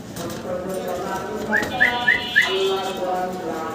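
Mundian pigeon, a large bird of Black Tiger colouring held for sale, giving a short series of four soft rising whistle-like coos, close by, under background chatter and murmur.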